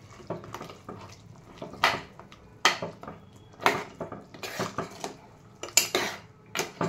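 Spoon scraping and knocking against a pot as masala is stirred into a coconut curry after the stove is turned off, a string of irregular metallic clinks and scrapes, close and fairly loud.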